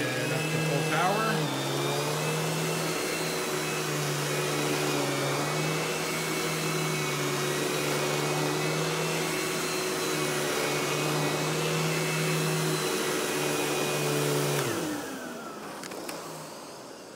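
A Royal Classic Power Team (Power Tank) 4650 canister vacuum runs at full power on carpet, a loud steady motor whine with a droning tone that holds for many seconds, then winds down and fades near the end.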